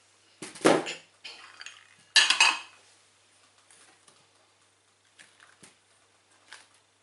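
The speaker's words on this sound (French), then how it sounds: "on mélange jusqu'à obtenir une pâte homogène" Flour, eggs and yeast being mixed into a melon pan dough in a bowl, heard as a few sharp scrapes and clinks of a utensil against the bowl, then softer scattered taps, close and without talk.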